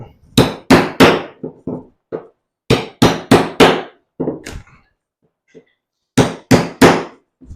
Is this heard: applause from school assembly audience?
no